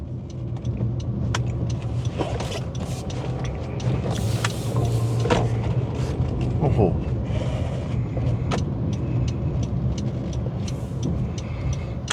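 A Honda CR-V 2.4 EL drives along with a quiet engine and hushed suspension, giving a steady low road and cabin hum throughout while people talk over it.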